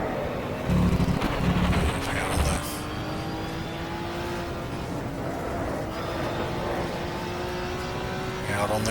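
Touring cars race at Snetterton in round 8 of the 1987 British Touring Car Championship, engines droning and whining steadily from a distance while a commentator speaks over them.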